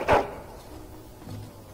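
A single short dog bark, close and fairly loud, from a dog in the fantasy role-playing game Dragon Age, followed by quiet background ambience.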